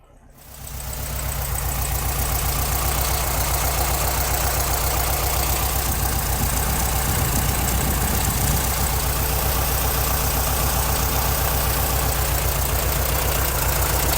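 A restored 1969 Volkswagen Beetle with a 4-speed manual idles steadily at its rear engine, recorded up close as a loud, even, unbroken chugging drone.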